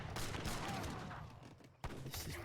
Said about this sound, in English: no way of dealing with these heavy cannons